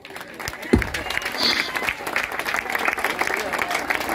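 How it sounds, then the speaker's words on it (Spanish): Applause rises from a church congregation after a call to praise, a broad wash of clapping and crowd noise with a sharp thump near the start, while a voice carries on over it. "Denle el aplauso al Rey"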